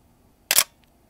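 One sharp, loud shutter release from a Canon 1DX DSLR, a single close mechanical snap followed by near silence and a faint small tick.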